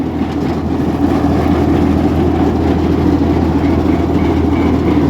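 A tractor-powered wood-cutting machine runs with a loud, steady low engine drone and a constant mechanical rumble, close by and unbroken throughout.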